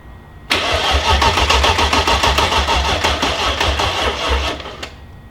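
A BMW E30 car's swapped M60 engine cranks over loudly with a rapid, rhythmic churning for several seconds, then cuts off abruptly.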